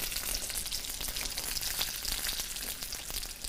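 Manti dumplings frying in butter on a stovetop, a steady close sizzle and crackle running throughout with no talk.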